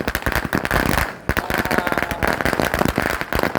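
Rapid firecrackers crackle and pop in dense, sharp bursts, loud and close, going off almost continuously during a Ganesh birthday celebration.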